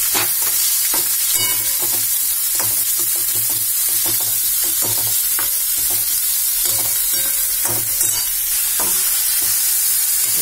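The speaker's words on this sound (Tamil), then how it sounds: "அதுக்கப்புறம் இந்த வெங்காயம் கட் பண்ணி வச்சிருக்க வெங்காயத்தை போட்டுருங்க." Chopped onions frying in a pan while making kaara poli, a steady loud sizzle with frequent stirring scrapes and clicks throughout, no talking.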